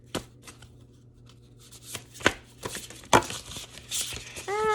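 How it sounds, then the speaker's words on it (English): Large tarot cards being shuffled by hand in a quiet room, a scattered run of soft riffling slaps and sharp card clicks, close and fairly faint, with no talk over them. "These cards are a little big for me to shuffle like that"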